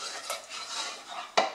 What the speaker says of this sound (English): Add it in a bit at a time and stir, because we want to form a thick dough.